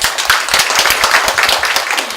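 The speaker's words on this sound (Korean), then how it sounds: "박수 한번 쳐주십시오" Audience applause at an arts criticism festival, a dense burst of many hands clapping that runs steadily throughout and is fairly loud, with no voices over it.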